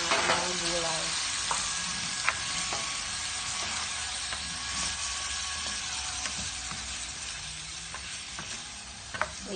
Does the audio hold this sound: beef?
yes